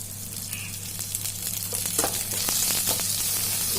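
Coriander and curry leaves sautéing in hot oil in a pan for a coconut curry, a steady close sizzle and crackle rising slightly in loudness, with a constant low hum underneath and no talking.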